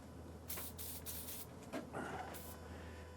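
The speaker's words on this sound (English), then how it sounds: "just give everything a little" Short hissing bursts from an aerosol spray can onto a rusty Jeep TJ engine, a few quick sprays in a row, faint and close, over a quiet background hum.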